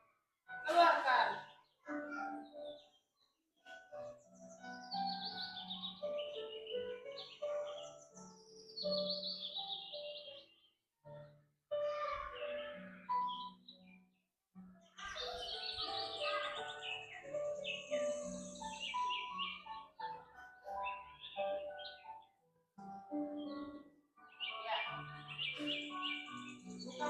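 Birds chirp and call among shady trees in a played recording, with bright overlapping tweets and trills coming in bursts and brief pauses, at moderate-to-soft level throughout.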